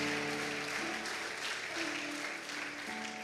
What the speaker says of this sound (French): Des applaudissements.